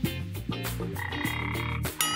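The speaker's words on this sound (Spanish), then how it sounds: "Sonó como una rana." Frog-like croaks sound close and loud in a quick run of several calls, each with a buzzy, gulping tone. No one speaks over them.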